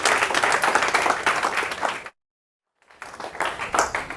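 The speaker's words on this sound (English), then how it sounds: "Round of applause, Tom Buston from SalesLoft" A seminar audience at a sales event claps for a speaker, with loud, dense applause that cuts to total silence for almost a second before the clapping resumes just as strongly.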